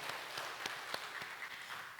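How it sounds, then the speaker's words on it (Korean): Quiet applause from a church congregation during a Sunday worship service, a faint, distant wash of clapping with a few more distinct claps standing out. "하나님 영광에 박수드리겠습니다"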